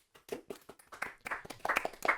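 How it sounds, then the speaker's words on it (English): Sparse clapping from a small group in a garage, echoing off hard walls. Irregular claps start thin and build into a fuller patter toward the end. "So much clapping in the garage."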